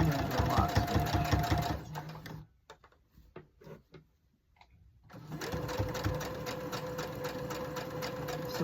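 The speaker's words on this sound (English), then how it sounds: "Now I'm on that seam, so I'm going to do it. I'm going to do a lock stitch." A sewing machine runs a lock stitch along a quilt seam, a steady, fast mechanical whir with a rhythmic needle clatter that stops for a few seconds of soft handling clicks, then resumes just as loud and steady.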